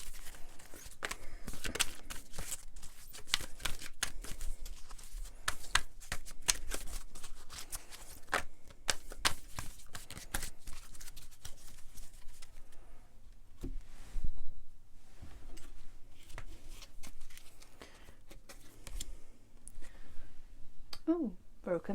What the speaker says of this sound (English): I'm going to pick a couple of energy oracle cards